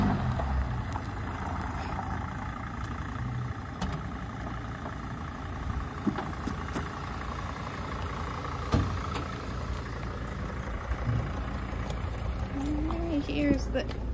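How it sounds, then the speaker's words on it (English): A 2006 Dodge Sprinter 2500 van engine runs steadily with a low rumble while the van drives and reverses, a continuous moderate hum with small bumps and clunks throughout. "here is a 2006 Dodge van, clearly drives"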